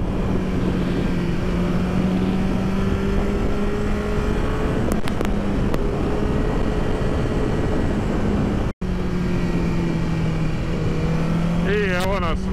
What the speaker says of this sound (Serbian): I evo nas na Hondi CBR 1000RR. Dakle, moj novi motor.